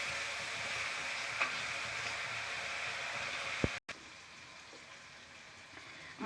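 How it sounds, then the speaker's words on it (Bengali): Spice paste for a rohu fish curry frying in a pan, a soft, steady sizzle that breaks off briefly with a clunk partway through and then continues more quietly. "আমি মশলা কষিয়ে নিচ্ছি।"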